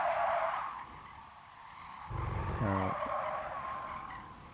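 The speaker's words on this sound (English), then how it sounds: "Car sliding everywhere." Race car tires skid and squeal as the car slides around a Sardegna circuit in a racing video game, a loud steady screech with a brief low thump partway through and no talk.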